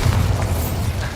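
A Bombarda spell explosion in the video game Hogwarts Legacy, a loud low booming blast that rumbles densely through its short length, with no voices.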